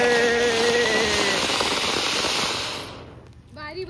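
A Diwali Padwa fountain firework burns with a loud, steady crackling hiss for about three seconds and then cuts off abruptly. Voices can be heard over it.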